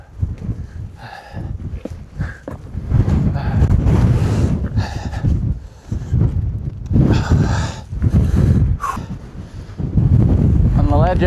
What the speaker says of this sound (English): the wind's really aggressive now